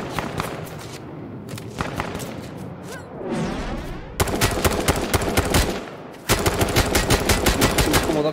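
Video game gunfire in Z1 Battle Royale: rapid automatic bursts and single shots, close and loud, in dense rattling volleys, with a commentator speaking over parts of it.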